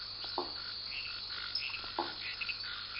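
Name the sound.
Phyllomedusa bicolor monkey frog at night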